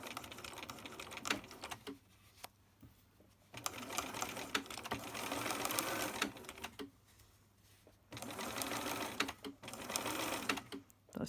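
A sewing machine stitches a fabric face mask in several bursts of rapid mechanical chatter, separated by short quiet pauses while the fabric is adjusted.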